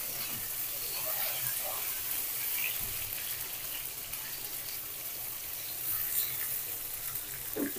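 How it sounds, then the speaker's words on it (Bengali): Potato pieces frying in mustard oil in a pot, a soft continuous sizzle with occasional stirring scrapes, moderately close and fairly even throughout. "আলুটা একটু লাল করে ভেজে দিব মাছের মধ্যে।"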